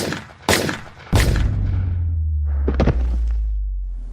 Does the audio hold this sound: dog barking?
no